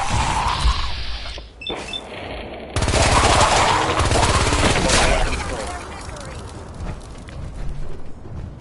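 Rapid bursts of video-game gunfire crackle through a stealth mission, a dense volley starting near the three-second mark and holding steady at close range before easing. Voices are talking over the shooting.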